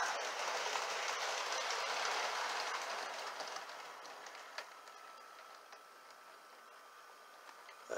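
An HO scale Proto 1000 Canadian National 8742 model locomotive runs along model track with a soft, steady whirring and faint rail clicks, fading slightly as it crawls along.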